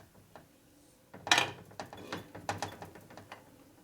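Flywheels of a 1965 Harley-Davidson panhead 74ci FLH engine are turned by hand during a rebuild, giving faint clicking and ratcheting mechanical ticks, close and quiet, with no speech.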